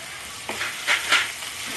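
Ginger garlic paste hits hot oil in a pan for a Bengali-style omelette curry, giving a few quick bursts of sizzling and hissing over a soft steady background, up close.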